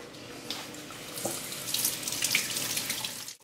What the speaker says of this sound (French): Et je vais le passer sous l'eau.